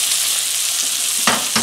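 Steak sizzling in browning butter in a Tfal Expert Pro stainless steel skillet, a loud close crackling hiss with a brief burst of stronger spattering near the end.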